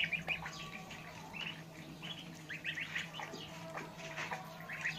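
Small ducks and young geese call in an open field where they graze on clover and drink water, a steady scatter of faint quacks and chirps over a constant low background hum.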